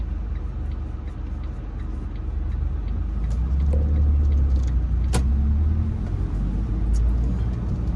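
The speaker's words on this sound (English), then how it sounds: "I'm gonna allow this traffic to go by." Traffic rolls past on a city street in the Brooklyn Homes area of Baltimore, Maryland, heard from inside a car as a steady low rumble that swells as vehicles go by, with no talking.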